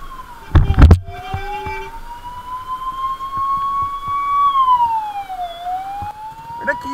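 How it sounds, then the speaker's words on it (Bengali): An ambulance carrying a patient is stuck in a single-lane traffic jam on a North Bengal road, its siren wailing in long, slow rising and falling sweeps close by. A brief heavy knock comes near the start. "পেছনে অ্যাম্বুলেন্স আটকে রয়েছে পেশেন্ট নিয়ে"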